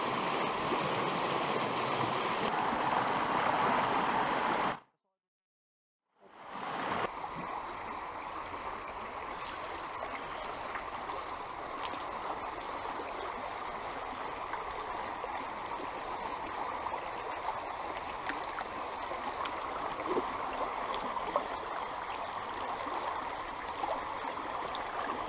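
Steady broadband rush of a mountain torrent flowing over rocks, continuous and fairly loud, close by, with a brief total dropout of a second or so early on before the water noise resumes unchanged.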